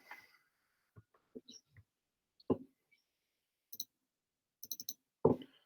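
Computer mouse clicks come in quick pairs and singles, faint and close, with soft speech fragments between them while components are placed in a digital electronics circuit program.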